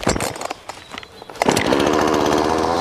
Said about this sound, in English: So now the chainsaw is running